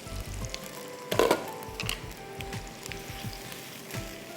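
Spices tempering in hot oil, sizzling and crackling, with a brief louder burst of spattering near the middle, then steady frying noise continuing.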